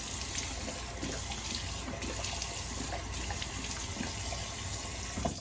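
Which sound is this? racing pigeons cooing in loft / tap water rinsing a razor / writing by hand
tap water rinsing a razor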